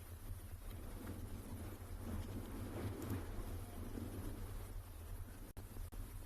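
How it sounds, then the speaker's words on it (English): Steady outdoor wind roars and buffets the microphone in a continuous low rumble near water at sunset on safari at Tswalu, with a couple of brief dropouts near the end. "maybe even hear that it's actually quite windy out here today"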